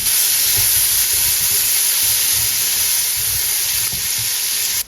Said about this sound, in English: you're gonna use your spatula to stir and make sure that all of them get covered with the oil